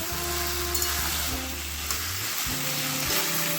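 Small shrimp and vegetables, including pui shak greens for a Bengali chorchori, stirred in a hot pan, with a steady close sizzle and scraping movements across the whole stretch.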